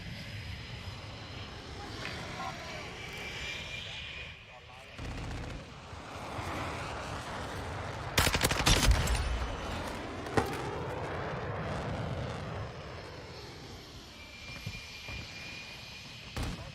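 A VTOL aircraft in the Modern Warfare 2 video game roars overhead with a droning jet engine, layered with sharp gunfire bursts and explosions in a busy multiplayer match.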